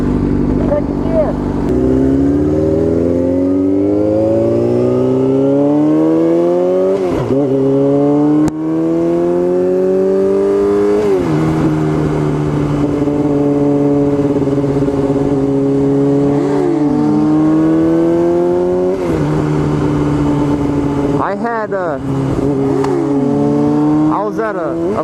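A car accelerates hard with a rising engine drone that drops and climbs again at each gear change, loud and close and continuous throughout.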